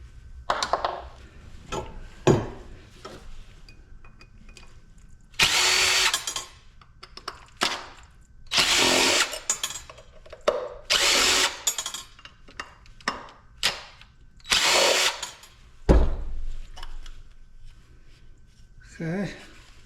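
A power drill backs screws out of a scrapped HVAC unit in short, loud whirring bursts separated by pauses, mixed with clatter and handling knocks, while someone talks intermittently.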